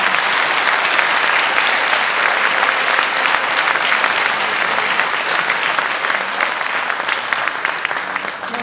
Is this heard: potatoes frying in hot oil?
no